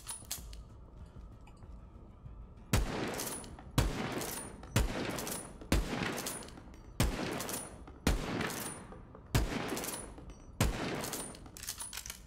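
Heavy gunfire in Borderlands 3 from a weapon with a four-round magazine: eight loud, evenly spaced shots roughly a second apart, each with a booming decay, after a quieter mechanical lead-in, no voices.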